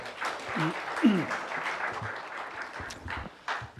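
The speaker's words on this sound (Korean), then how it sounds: "다시 한번 감사의 박수를 보내주십시오." An audience at a policy forum on support for people with developmental disabilities gives a short round of applause, a soft, diffuse patter of clapping under a murmur of voices.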